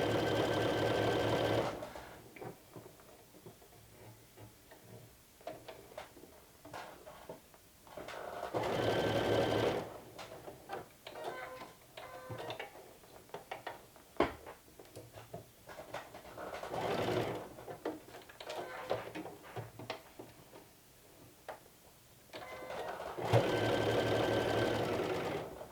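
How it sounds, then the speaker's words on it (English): Household sewing machine top stitching a half-inch fabric hem, running in several sustained bursts of rapid, even needle chatter with quiet handling pauses between runs. "this is the last step we're doing on the sewing machine"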